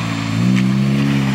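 Honda Civic drifting and spinning out, a close, steady engine hum that rises slightly in pitch and loudness as the revs build, brief and alone.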